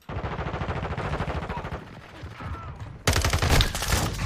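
Gunfire in Modern Warfare II, including shotgun fire, comes as dense rapid volleys of loud shots that run continuously, with a sharper, heavier burst in the last second.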